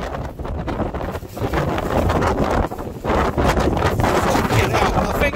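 Strong, gusty wind roars steadily across the microphone outdoors beside a boat being painted by brush, loud and continuous for the whole stretch with brief dips between gusts.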